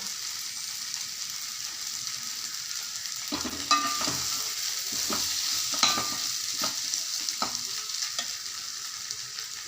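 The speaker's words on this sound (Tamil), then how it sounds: "ஒரு மூணு நிமிஷம் நல்லா போட்டு இட்லியை கலக்கி விட்டு" Green idli pieces being stirred in a hot pan, a steady sizzle of frying with a spoon scraping and clinking against the metal several times, close by with no talking.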